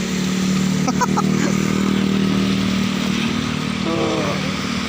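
A motorcycle being pushed along a flooded street in Barangay 183, Villamor, Pasay, its engine giving a loud, close, continuous droning hum, with brief voices heard over it.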